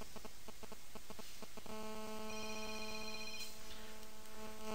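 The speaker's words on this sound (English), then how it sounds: "maybe you can hear my cell phone ringing in the background there" A cell phone rings faintly in the background with repeated electronic tones that settle into a steady sustained ring, under a constant room hum.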